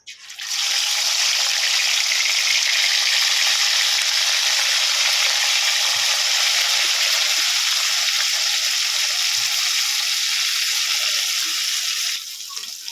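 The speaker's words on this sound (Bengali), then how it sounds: "কড়াই তেল দিয়ে দিয়েছি তেল গরম হয়ে গেছে মাছগুলোকে এবারে ভেজে নেব" Rohu fish pieces drop into hot oil in a wok and fry with a loud, dense, continuous crackling sizzle that starts abruptly and stays steady for over ten seconds before easing slightly at the end.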